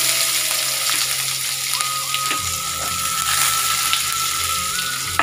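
Chopped onions hit hot oil already holding cumin and lightly fried bay leaf, giving a steady close sizzle and hiss that swells as they land, for a fish-head and banana-flower curry.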